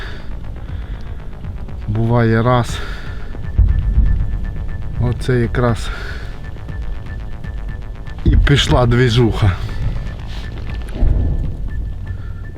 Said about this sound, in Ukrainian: Оце ми зараз чуємо гелікоптер? Оце чути гелікоптер.